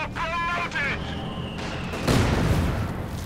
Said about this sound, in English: Mortar rounds falling down there.